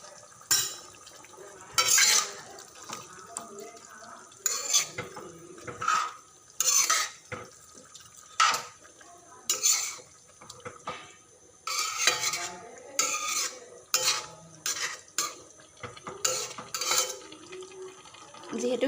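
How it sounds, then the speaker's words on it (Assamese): Spoon stirring jackfruit flower and meat curry in a new pan after water from boiling the jackfruit flower is added, a homestyle Assamese dish; repeated scraping strokes and clinks come in bursts, with occasional talk between them. "আৰু এবাৰ লৰাই পেলাই ঢাকোন মাৰি দিম"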